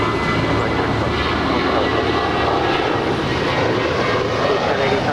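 A JetBlue airliner at Los Angeles LAX airport gives a loud, steady engine roar that fills the whole stretch without a break, with voices faintly mixed in under it.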